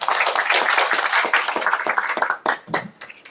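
An audience at a Korean academic lecture event claps for a speaker, a dense wash of applause that thins into scattered separate claps near the end.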